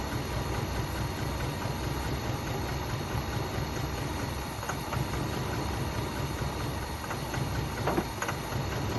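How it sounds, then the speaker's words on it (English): A 1979 Buick engine idles roughly and steadily, a low uneven rumble with faint knocking, running continuously for several seconds with no one talking. "Running bad, but it's idling."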